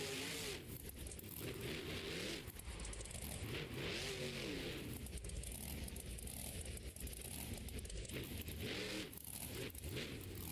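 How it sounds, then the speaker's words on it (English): A monster truck engine revs hard at an arena show, loud and continuous with rising and falling surges as the truck spins its rear tires, crowd and arena noise blended underneath. "Setting the truck completely off, turning those rear tires."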